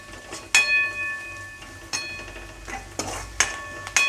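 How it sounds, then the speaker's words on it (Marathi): Turmeric and red chili fry in a pan while a spoon stirs, giving a soft sizzle under several sharp metallic scrapes and clinks close by, with no talking. "थोडी हळद टाकू आणि थोडंसं लाल तिखट टाकूया। आता हे चांगलं फ्राय करून घेऊ।"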